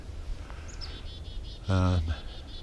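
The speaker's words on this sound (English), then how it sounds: "A lot of birds." Birds chirp from a tree holding a nest outdoors on a snowy day, with faint high calls repeating through the clip and a brief louder burst near the middle.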